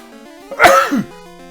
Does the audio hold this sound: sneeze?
yes